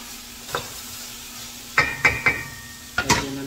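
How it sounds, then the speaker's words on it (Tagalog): Chopped onion sizzles in a pan where meat has just been browned, a steady frying hiss broken by several sharp scrapes and clacks of stirring, close and alone. "pwede na natin lagay itong onion"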